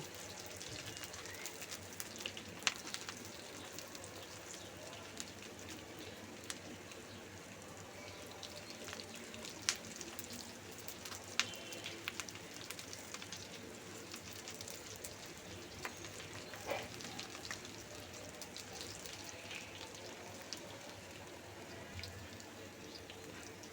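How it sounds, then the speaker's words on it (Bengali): Hog plum (amra) peels frying in oil with onion and garlic, producing a quiet, steady sizzle with scattered small pops, close but faint and with no talking. "আমরার খোসাগুলো এই পেঁয়াজ রসুনের মধ্যে ভেজে নিব"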